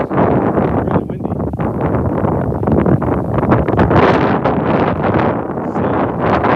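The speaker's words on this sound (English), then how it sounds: "It's really windy." Strong outdoor wind buffets the microphone in a loud, continuous roar with gusting surges throughout, during a brisk walk.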